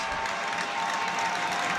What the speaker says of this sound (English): they're getting a big round of applause from all the Blue Devil fans